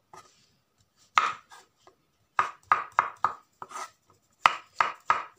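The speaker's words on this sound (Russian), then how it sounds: "Нарезаем грибы." A knife chops mushrooms on a cutting board, sharp close taps in short irregular bursts separated by brief pauses.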